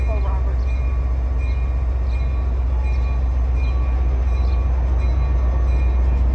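Steady low rumble of a Western Maryland Scenic Railroad passenger train heard from aboard, with continuous rolling noise, faint squeals and light background chatter.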